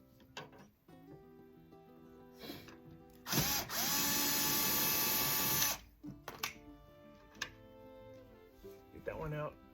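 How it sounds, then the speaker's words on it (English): A Phillips head screwdriver backs screws out of an LG washer with soft clicks and metallic scrapes, broken by one loud, steady two-second whir, all heard up close in a quiet room. "So we'll spin those off first. We'll just use a Phillips head screwdriver."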